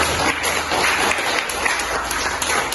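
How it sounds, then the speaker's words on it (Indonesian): Steady applause from a school audience, dense and continuous clapping filling the room at a fairly loud level throughout. "Tepuk tangan dulu, luar biasa."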